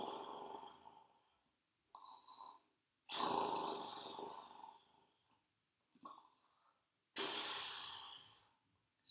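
A child imitates a polar bear snoring during a yoga story, producing several slow, breathy snore-like rasps separated by quiet pauses, close and fairly soft.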